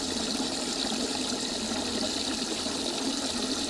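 Air bubbling steadily into a homemade live bait tank full of water, a constant fizzing, gurgling wash heard close up with no pauses.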